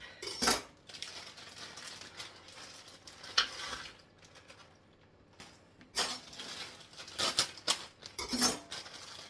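Kitchen prep with a knife and cooking utensils clinking against pans, a few sharp bursts of scraping and clatter separated by quieter stretches, with faint sizzling from onions in the background, close and fairly loud.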